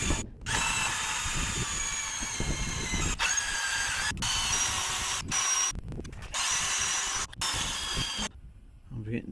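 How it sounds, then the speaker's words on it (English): A power drill whines steadily in long bursts while drilling bolt holes for a pickup truck tool bed, stopping briefly between runs, with clattering and handling noise underneath. "I want to start drilling holes and put bolts in"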